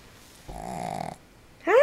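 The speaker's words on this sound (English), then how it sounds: "You're bothering me with your snoring." A Shih Tzu lets out a nasal, wheezy snore of about half a second, then a short vocal whine follows close to the microphone.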